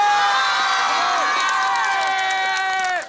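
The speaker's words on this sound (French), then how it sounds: "les cris et les larmes des salariés saluent l'annonce." Factory employees in Saint-Julien shout and cheer after a round-table announcement that their plant will stay open, a loud, dense mass of overlapping voices with high whoops and cries that holds steady, then cuts off.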